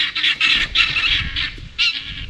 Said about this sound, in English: I hate those silly guineas